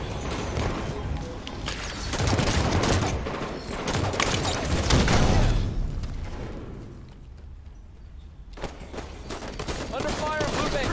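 Halo 5 multiplayer firefight with dense bursts of automatic gunfire and blasts in rapid volleys, loud in the first half, easing to a quieter lull before shots resume, with a voice speaking under it.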